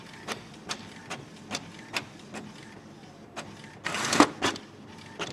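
An ink tank printer feeding out its first copied page makes a series of separate mechanical clicks and whirs at a moderate distance, ending in a louder burst of motor and paper movement.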